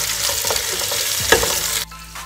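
Chopped tomatoes and browned onions fry in a pan for mutton yakhni pulao, a steady close sizzle with a brief stir, cutting off abruptly near the end.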